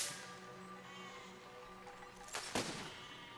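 A cannon firing in the Besiege video game, a sharp boom with a burst of noise near the end, heard faintly over a low steady game background with no talk.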